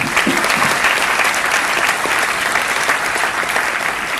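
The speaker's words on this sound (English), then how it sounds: "Can we have a round of applause for that?" Dense, loud applause from the audience at a college Toastmasters club's 100th meeting, continuous clapping from many hands filling the whole stretch with no talk over it.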